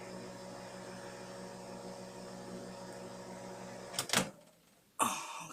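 A microwave oven hums steadily while cooking food, a constant drone that cuts off abruptly near the end with a couple of clicks and a door-like clunk, then a short burst of sound.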